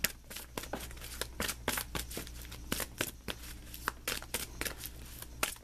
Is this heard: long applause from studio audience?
no